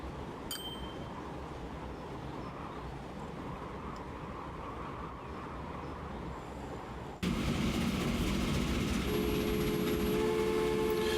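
Trains running in the video game Transport Fever, a steady rumble of rolling rail cars that jumps louder partway through, joined by a sustained tonal horn-like whine, with no talking.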